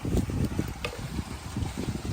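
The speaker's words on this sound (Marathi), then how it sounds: "हे बघा पाणी चालू झालं" A motor-pumped hose gushes water while a vehicle is washed, a continuous close splashing rush with uneven low bubbling underneath.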